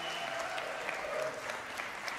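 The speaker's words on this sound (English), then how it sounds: "would you just give them a warm welcome," Applause from a church audience at an Easter Sunday service, welcoming a preschool performance; steady, even clapping that carries on throughout at a moderate distance, with no talking over it.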